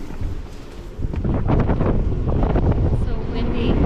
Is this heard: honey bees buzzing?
no